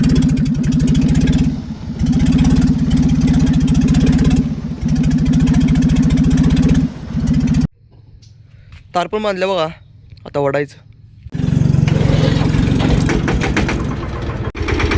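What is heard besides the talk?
tractor engine being started and running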